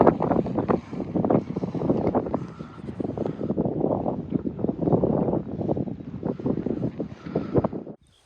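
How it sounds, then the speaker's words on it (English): Strong outdoor wind buffets the microphone, producing loud, low rumbling gusts that pulse irregularly throughout before cutting off at the end. "It's pretty windy right now"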